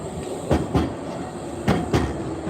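A tram rolling through Prague, with a steady low rumble and a few distinct wheel clacks over rail joints in pairs, heard from inside the car.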